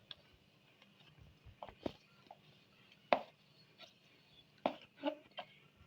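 A knife slices a vegetable lengthwise on a board for an Italian salad, making soft, scattered taps and cuts at an uneven pace in a quiet room.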